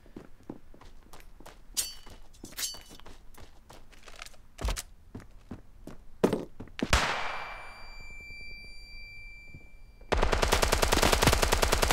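Gunfire from the mobile shooter Standoff 2: scattered sharp shots and footsteps, then a loud blast with a ringing tail, ending in a dense rapid automatic burst.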